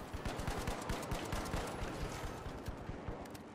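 An automated turret firing in The Finals, rapid sustained machine-gun bursts with dense evenly spaced shots, moderately distant and steady for the whole stretch.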